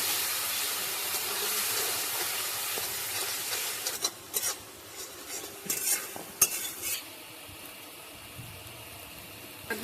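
Spice paste of ground chilli sizzles in a pan with a splash of water for a coconut-milk prawn-stuffed pointed gourd dish, a steady hiss giving way to scraping stirs and small bursts of bubbling, close and loud.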